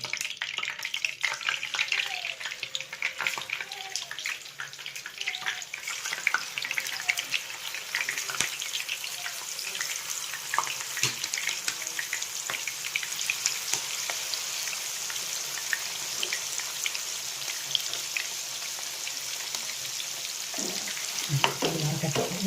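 Steady crackling sizzle of chicken liver frying in hot oil, close and continuous, with occasional spatters and faint stirring sounds.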